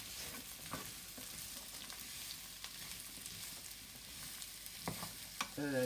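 Carrot and onion stir-frying in a pan, a constant close sizzle broken by occasional scrapes and clinks of a utensil stirring, with a bright metallic tap near the end.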